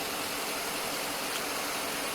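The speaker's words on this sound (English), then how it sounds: "I'm just going to let it sit and run and idle" A car engine idling in a garage during a LiquiMolly engine flush, a steady, even hiss-like hum with no changes in speed and no voices.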